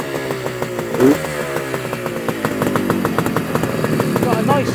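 Suzuki GT250C two-stroke motorcycle engine revving with a raspy airbox intake note, steady loud buzzing with rising pitch and a couple of blips, while a person talks over it.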